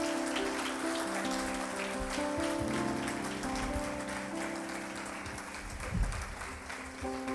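Church congregation applauding steadily in a dense, continuous wash of clapping, with organ or keyboard tones sustained underneath and no talking.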